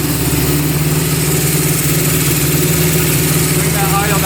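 A Honda CB750 motorcycle engine idles at a high, steady 2200 RPM, a loud, even mechanical drone with a constant low throb and no pauses.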